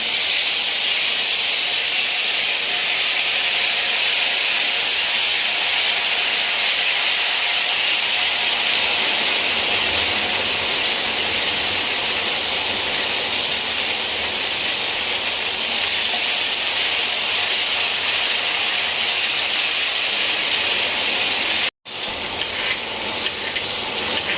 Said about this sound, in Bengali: আদা, জিরে, ধনে বাটা রয়েছে, দিয়ে দিচ্ছি তেলে